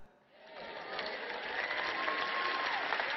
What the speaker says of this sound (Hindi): मैं तालियों की आवाज से बता सकती हूँ कि आप कितने सहमत हैं।